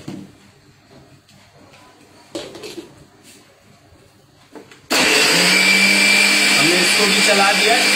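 An electric blender whirs loudly as it grinds coffee with full-cream milk, starting abruptly after some quieter handling noises and then running as a steady, close, high-pitched roar.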